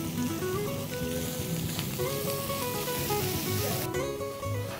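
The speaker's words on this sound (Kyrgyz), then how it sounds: "Алгач фаршты салып кууруп алабыз." Minced meat fries in a pan with a steady, soft sizzle and crackle that runs without pause, with no voices over it.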